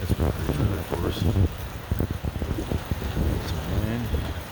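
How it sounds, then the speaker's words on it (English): Wind and rain batter the outside of a 2005 Keystone Challenger trailer in near-freezing weather, a gusty, uneven patter with bursts of noise, while a voice talks intermittently over it. "Some wind, rain."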